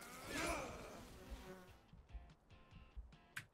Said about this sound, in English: Then I got stung by bees.